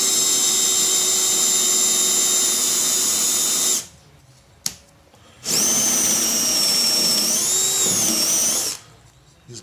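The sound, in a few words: drilling with a 3/4 Forstner bit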